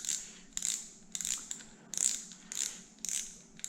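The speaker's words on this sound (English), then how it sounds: "I'm gonna put the spool back on" A Shimano spinning reel's spool is fitted back into place, giving a steady run of sharp ratcheting clicks in evenly spaced bursts, close and fairly quiet.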